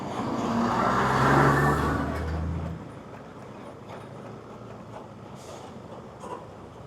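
Large vehicles passing on a narrow, damaged road in Bulacan, a loud rumbling pass-by that swells then fades to a steady distant traffic hum.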